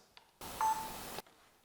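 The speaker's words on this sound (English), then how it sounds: "You will hear the camera beeping if you have the audio signals on, and you're now recording." A single short electronic beep from a camera mounted on a Zhiyun Crane 4 gimbal as recording starts, clear but quiet, surrounded by near silence.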